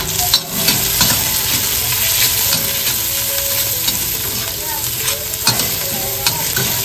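Onion, green chili and curry leaves sauté in oil for egg bhurji, with a loud, busy sizzle broken by repeated scraping of a spatula stirring in the pan. No one speaks.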